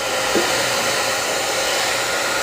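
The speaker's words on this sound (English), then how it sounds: "I'm going to use my hairdryer to take off the tape, just to help it not rip the paper." A hair dryer heats painter's tape on watercolor paper, giving off a steady, loud, unbroken fan and air roar that holds at one level the whole time.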